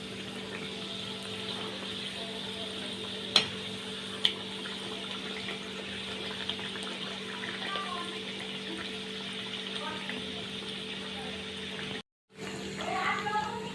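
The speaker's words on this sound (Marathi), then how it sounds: "पुऱ्या दोन्ही साईडने तळून झाल्यात." Sweet jaggery puris deep-frying in hot oil, a steady broadband hiss with faint bubbling crackle, two sharp clicks early on, then a brief cut before the sizzling resumes.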